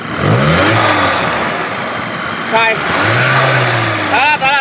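A Volkswagen Tiguan EA888 engine, fault code P2015 for the intake duct flap, revs up as the throttle is pressed, rising then settling, then rising again, heard close and loud with a voice talking over it.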